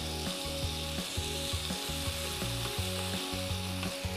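Fish with lemongrass fries in a pan with a loud, continuous sizzle, broken by rhythmic clattering as it is stirred and turned.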